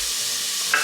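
Finely chopped small onion hitting hot avocado oil in a pan, a steady close hiss with a brief brighter sizzle burst near the end, no voices.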